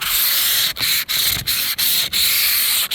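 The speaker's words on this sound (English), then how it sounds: "Line up your hose, sandpaper, and you just go to town." Sandpaper is rubbed by hand over a curved Humvee H1 hood with a hose as a backing block, making loud, steady scratchy strokes broken by short pauses roughly every third of a second.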